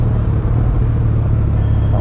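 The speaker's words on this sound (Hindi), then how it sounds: "काफ़ी तगड़ा जाम लगा हुआ है।" Heavy traffic is jammed on a road, with a continuous low engine rumble from idling cars and motorbikes heard close up from a superbike in the jam, loud and steady, with no talking.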